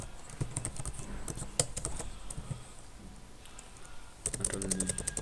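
Quiet keystrokes clatter on a computer keyboard while text is entered into a code editor, arriving in irregular bursts with short pauses and no talk.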